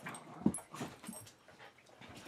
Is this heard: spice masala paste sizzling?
no